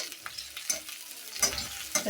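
Four or five green chilies frying in a pan for tomato bhaji, stirred now and then: a soft, steady sizzle broken by several short scraping strokes of the spoon, close and moderately loud, with no talking.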